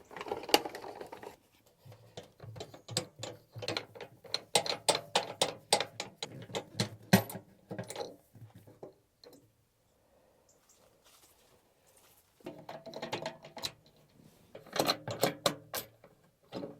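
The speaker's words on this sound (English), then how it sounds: "You undo the bolts and then you're able to swivel the chair around." Bolts being undone on the swivel base plate of a VW Transporter T6.1 campervan passenger seat, heard as bursts of rapid ratcheting clicks with a quiet pause in the middle, then more ratcheting toward the end.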